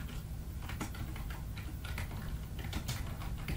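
Computer keyboard keys tapped in quick, uneven bursts while HTML is typed, light clicks sounding close and faint over a soft steady background hiss.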